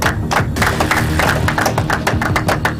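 Audience applause after a school debate competition: a steady, dense patter of many hands clapping in a hall, sustained at an even level throughout with faint crowd murmur underneath.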